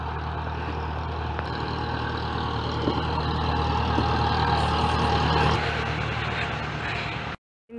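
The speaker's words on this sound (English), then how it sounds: "There's a tractor coming and you still can't see it." A tractor approaches unseen on a dark winter road in Limuru, Kenya, its heavy diesel engine a steady low rumble that swells gradually before cutting off abruptly near the end.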